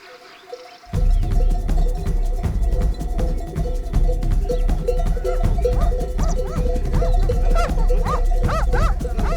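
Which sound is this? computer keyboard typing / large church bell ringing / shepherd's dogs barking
shepherd's dogs barking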